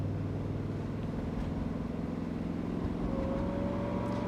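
A 1983 GMC Vandura G2500 van drives along steadily, its engine and road noise forming a continuous loud low drone with a rising whine near the end, and no talking.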